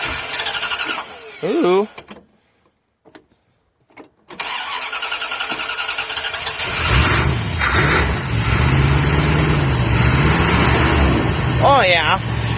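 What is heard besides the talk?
1978 Dodge 440 Sportsman RV engine starting with new starter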